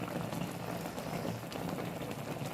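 Chicken leg adobo bubbling in a pot on the stove, a soft steady simmer with faint low rumble, continuous and quiet, no voices.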